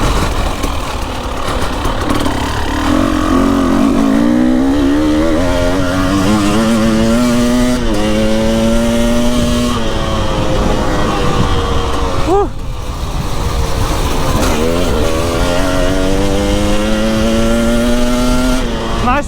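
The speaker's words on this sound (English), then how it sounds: "Nice to open up the bike a bit though" An enduro motorcycle's engine is held at full throttle on a muddy, rain-soaked course, a loud, close, steady roar that climbs and falls in pitch through gear changes, with a rider's voice breaking in now and then.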